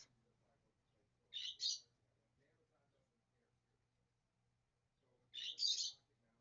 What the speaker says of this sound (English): Baby Sky is starting to chirp some over here right now.